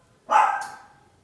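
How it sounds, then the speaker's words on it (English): A dog gives one sharp, fairly loud bark nearby, with a short fading tail. The bark stands alone against a quiet indoor background. "excuse my dog"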